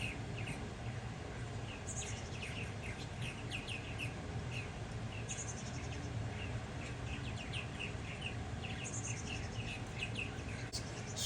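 A fluffy young bird calls for its parent at a summer farm near a bird feeder. Repeated high, thin chirps come in short bursts over a steady outdoor hiss, fairly faint and somewhat distant.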